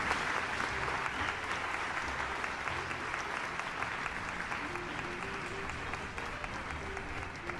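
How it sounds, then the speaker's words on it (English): Applause sound effect playing back in a horror game's UI, a steady wash of many hands clapping at moderate level for the whole stretch, with faint tonal music or interface sounds underneath. "Round of applause."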